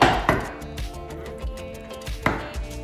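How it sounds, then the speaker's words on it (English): A knife chops squash on a cutting board in a home kitchen during meal prep, giving several hard, close thuds at uneven intervals over a low background hum. "Chopping the squash"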